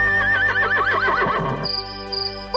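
A horse whinnies loudly and close by, its neigh rising and falling in a long quavering call before breaking off, followed by a brief higher squeal near the end.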